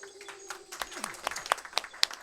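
Sparse clapping and light applause played as a donation alert during a livestreamed Total Overdose speedrun at a charity marathon event, faint and patchy, with electronic game sounds under it.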